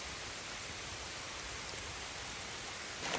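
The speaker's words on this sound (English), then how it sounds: "Just watching the rain come down over the valley." Rain falling over a valley in Michigan, a dense even hiss of steady downpour that holds constant throughout, with a slight rise in spatter at the very end.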